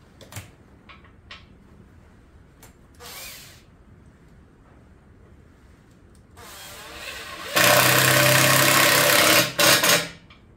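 A drill press in a blacksmith's workshop winds up and drills, a loud, close mechanical whine and grinding that holds for about two seconds before cutting off, after quieter clicks and tool handling.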